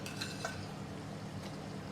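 Ginger garlic paste and onion sautéing in oil in a pan, a soft continuous sizzle with light stirring scrapes and occasional utensil clinks, no voices.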